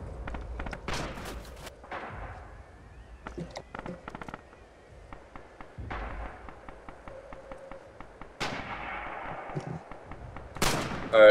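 Rifle shots ring out in Red Orchestra 2 multiplayer combat, a series of sharp cracks and bursts scattered across the clip at varying distances, some louder and closer, with a voice talking over parts of it.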